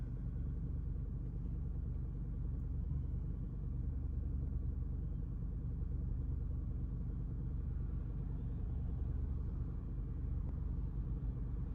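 Alfa Romeo Quadrifoglio engine idling rough, a steady low rumbling idle with a slightly uneven pulse, close and continuous, with no talking.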